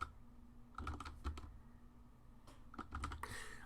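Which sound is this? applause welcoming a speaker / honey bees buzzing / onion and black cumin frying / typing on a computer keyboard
typing on a computer keyboard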